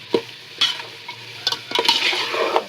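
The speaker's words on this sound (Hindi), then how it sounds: "तो गोश्त को ऐसा भून लेना" Meat, mutton, fried with spices in a pan for tahari, a crackling sizzle broken by several sharp stirring scrapes, close and fairly loud with no talk.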